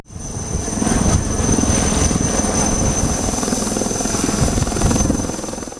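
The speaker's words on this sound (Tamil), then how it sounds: "சீட்டக் ரக ஹெலிகாப்டர்கள் கொண்டு கடலில் சிக்கியவர்களை இரவு நேரத்திலும் மீட்பது போன்ற சாகச நிகழ்ச்சிகள் செய்து காட்டப்பட்டன" An Indian Coast Guard Chetak helicopter flies over the sea off Chennai's beach during a Coast Guard Day display, its rotor and engine producing a loud, steady, close drone throughout.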